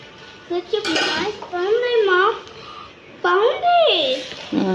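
Kitchen utensils and dishes being unpacked from sea cargo boxes shipped from Kuwait to Bangalore, with clinking and clattering of pots, pans and cutlery under near, continuous talk from several voices, including a child.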